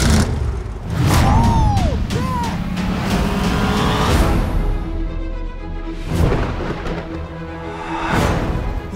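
An old station wagon's engine in a film trailer, roaring in surges and passing swells with a brief tire squeal, layered with whooshing cinematic effects and no talk.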